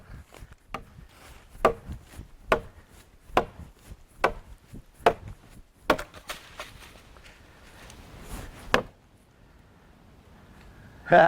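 A sharp knife chopping into timber, the sharp woody blows landing one after another at a steady rhythm, then slowing. Someone talks between the strikes.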